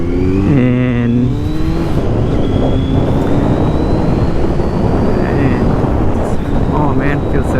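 A Kawasaki Z900 motorcycle engine drones loud and steady throughout a ride, with wind rush and a rising rev, while a rider talks over it.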